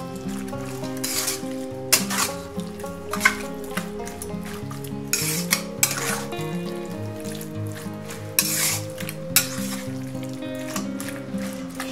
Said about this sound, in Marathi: आणि हे आपल्याला चांगलं मिक्स करायचं आहे.